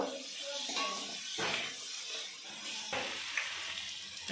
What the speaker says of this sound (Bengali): ছোলা, পেঁয়াজ, রসুন, লঙ্কা ভালো করে ভাজা ভাজা করে নেব।